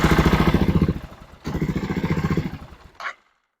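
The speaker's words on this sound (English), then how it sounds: "Obviously, you saw the motor runs, fires right up like a champ." A Kawasaki KLR650 motorcycle engine fires up and runs with a loud, rapid single-cylinder thump, cuts briefly, then catches and runs again before stopping with a short clatter.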